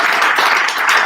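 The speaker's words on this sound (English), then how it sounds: "Big round of applause for" An audience at a startup pitching event bursts into dense, steady applause, many hands clapping together at close range for about a second.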